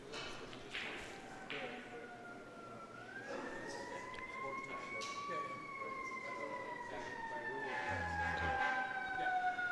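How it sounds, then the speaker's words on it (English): Concord Fire Department sirens wail outside a snooker championship room, rising and falling in long sweeping tones that grow steadily louder, with talk faintly beneath and a low thump near the end. "the Concord Fire Department is in hot pursuit outside as the sirens blare through the room"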